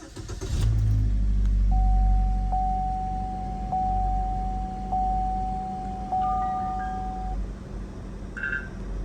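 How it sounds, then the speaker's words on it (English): A vehicle engine turns over and settles into a steady, close idle, with a thin electronic tone sounding across the middle of the run and a few short beeps near the end. "we're just going to start the vehicle up"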